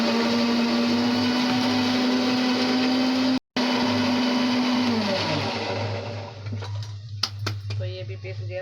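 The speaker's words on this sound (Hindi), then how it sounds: "टमाटर हरी मिर्च की बनाती हूँ मैं प्योरी, तो पीस के डाल दूँगी मैं इसमें।" A kitchen mixer grinder pureeing tomatoes and green chilies makes a loud, steady high whine, cuts out for an instant, then spins down and stops, followed by a few sharp clinks of the jar.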